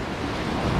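Pacific Ocean waves washing along the coast, a continuous broad rush of surf mixed with wind noise, with no voices.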